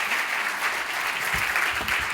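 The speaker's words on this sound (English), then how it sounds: "Round of applause for our judges" Conference audience at a beverage industry pitch event gives the judges a round of applause, a full, steady wash of clapping that stays loud throughout the short stretch.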